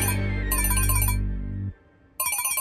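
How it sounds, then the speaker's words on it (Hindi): A melodic phone ringtone plays loudly and close, with bright repeating tonal bursts over a sustained tone, a brief pause, then the ringing pattern resumes. "सर का फोन है।"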